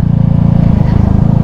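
CF Moto 300SR motorcycle engine at idle with a rough, rapid rattling thump, loud and close, running unevenly as it struggles to keep going.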